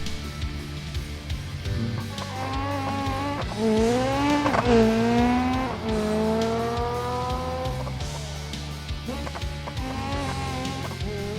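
Drag car in the BeamNG video game running up through its gears, engine pitch rising in sweeps then dropping at each shift, loud and close with a brief tire squeal mid-run.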